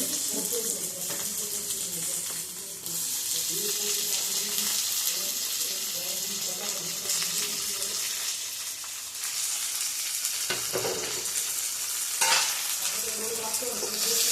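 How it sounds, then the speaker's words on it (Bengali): Garlic, onion and capsicum fry in a pan with a steady, full sizzle, stirred now and then with a few louder clatters, close and continuous throughout. "রসুন আর পেঁয়াজ ক্যাপসিকাম একটু ভাজা ভাজা করে নেবো"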